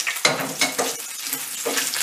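Pieces of already-fried chicken sizzle steadily in a pan over lowered heat for a creamy sauce dish, and spoon or spatula stirring strokes scrape through it at intervals, close and fairly loud with no talking.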